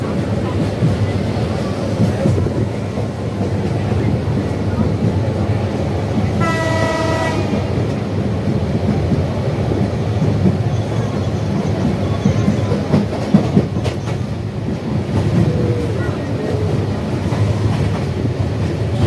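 A Cox's Bazar Express passenger train (train 813) on the Cox's Bazar–Dhaka run gives a steady, loud rolling rumble throughout, with one short horn blast partway through.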